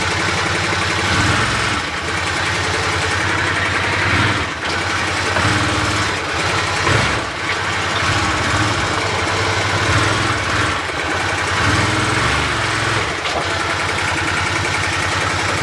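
An Arctic Cat Prowler XTZ side-by-side fitted with a new wet clutch runs with a loud, steady engine drone and slight surges in pitch as it moves, close and continuous throughout.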